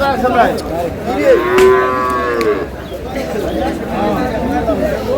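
Cows and calves of improved dairy breeds mooing at a busy cattle market in Aftabganj, Dinajpur, several long lowing calls overlapping close by with chatter and voices in the background.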